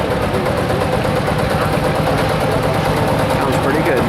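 A 1955 Lanz tractor engine runs at an outdoor heritage tractor show, a loud, steady low thumping close by with a constant rhythm, while people talk over it.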